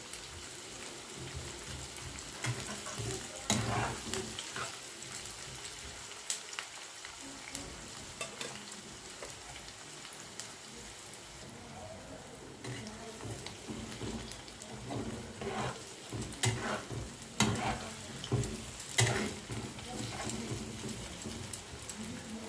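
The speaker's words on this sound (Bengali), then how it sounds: "আমি সব পেঁয়াজ কুচিগুলোকে ভেজে নেব।" Chopped onions fry in mustard oil until deep red for a Kolkata-style mutton biryani, giving a continuous close crackling sizzle with occasional louder bursts and the scrape of stirring.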